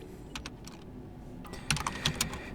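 Keys tapped on a computer keyboard while typing a command, quiet close clicks in uneven bursts, sparse at first then a quicker cluster of sharper keystrokes toward the end, no voices.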